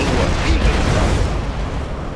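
Explosions and booms from battle in the real-time strategy game Command & Conquer Generals Zero Hour, a dense, loud, rumbling low-end wash that continues through the whole stretch with no clear separate blasts.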